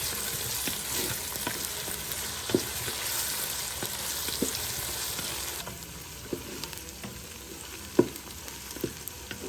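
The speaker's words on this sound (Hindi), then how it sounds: "हम इसको भूनेंगे गोल्डन ब्राउन होने तक।" Steady sizzling of food frying golden brown in a pan for turnip beef curry, with occasional clicks and scrapes of stirring over the constant hiss.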